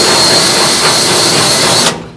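A power drill spins a broken drill bit ground flat to clean out weld holes in a 1970 Challenger frame rail, a loud, steady whine for about two seconds that then cuts off.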